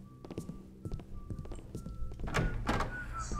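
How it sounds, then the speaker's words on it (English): A heavy door opens in a video game with a loud, drawn-out creak and clunk, amid scattered game thuds and footsteps. "That's a loud door opening sound."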